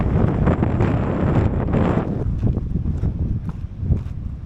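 Strong gusty wind on a backpacking trail around Mount St. Helens buffets the microphone with a loud, low roar that eases slightly after a couple of seconds but keeps blowing.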